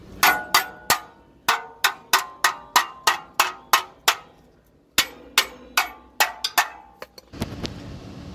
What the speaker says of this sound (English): you take a hammer and you pound it a little bit on the back to turn it loose